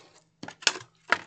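Three short, crisp snips of scissors cutting cardboard from a dollar-store box, close and distinct with brief pauses between them, otherwise quiet.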